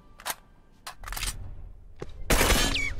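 Rifle fire in a The Last of Us match comes in several short sharp bursts, some distant and some closer and louder, with a whooshing sweep near the end.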